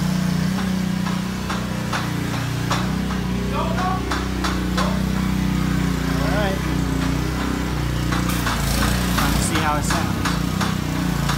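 Exhaust of a Mercedes-Benz CLS550 with its factory resonators still in place, a steady low rumble continuing throughout under sharp intermittent clicks and knocks.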